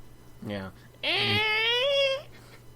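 A man imitates a cat caught in a door with his voice: a short whiny mew, then a long, loud, strained yowl that rises and holds before cutting off.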